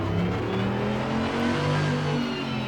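Mercedes-AMG GT3 Evo race car engine in Assetto Corsa Competizione at the Nürburgring, a steady, loud engine drone with low harmonic bands shifting slightly in pitch as it revs, continuous for a few seconds with no talking.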